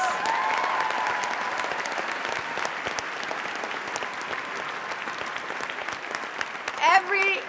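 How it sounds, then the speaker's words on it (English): Audience applause at a speech during a Palestinian rights panel at UMass, steady clapping throughout with a brief louder burst near the end. "I want you to give them another round of applause"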